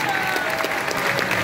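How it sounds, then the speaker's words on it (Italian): An audience at a nerd convention event claps in a dense, steady burst, with faint voices under the applause. "Un fortissimo applauso"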